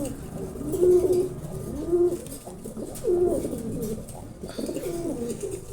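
A male Giribaj racer pigeon of the ghia chulli variety coos softly nearby, about four rolling, repeated coos with short pauses between them.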